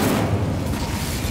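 Incendio fire spell cast in Hogwarts Legacy, a loud, dense, booming burst that fills the moment with a rumbling roar and no talk.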